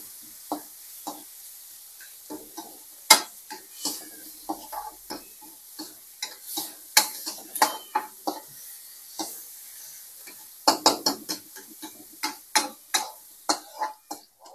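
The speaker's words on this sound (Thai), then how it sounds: "คั่วกระเทียมหอมแดง" Garlic and shallots dry-roasting in a pan give off scattered light clicks and scrapes of stirring, with no oil sizzle and a few sharper taps of the spatula, close and fairly quiet, with no talking.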